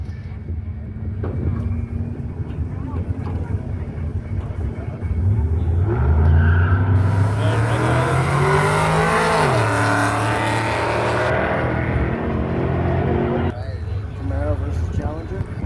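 Drag race between a Dodge Challenger 392 Bumblebee and a 2006 Camaro at a car show, loud engines revving and roaring with rising pitch sweeps as they launch, with people talking over the noise.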